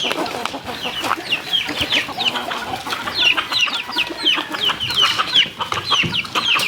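Free-range chickens and roosters cluck and squawk in a busy, overlapping flock while being fed, a close and lively chorus of calls with no talking.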